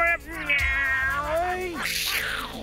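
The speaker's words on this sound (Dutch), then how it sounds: "Raast de kat." A cat in a forest setting lets out a long, wavering, rising and falling yowl up close, loud and drawn out, ending in a harsh hiss-like burst.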